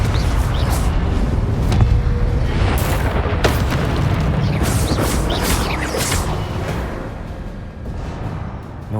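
The Confringo spell from Hogwarts Legacy bursts against statues, heard as a dense booming rumble with sharp crackling hits and whooshes, loud and continuous throughout.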